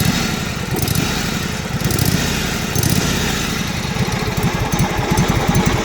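Small engine of a Craftsman GT utility tractor running steadily up close, a loud continuous rumble with a slightly uneven throb and no voices.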